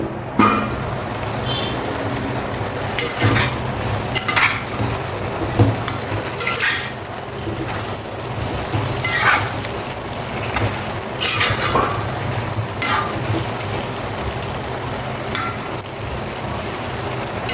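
Sweet corn pieces are stirred in a pot with a metal spoon, giving loud, irregular clanks and scrapes against the pot over a constant low background hum.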